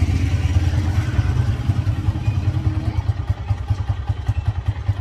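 A motorcycle engine idles close by outside a large house, a steady, loud low throb with rapid pulsing beats and no talk over it.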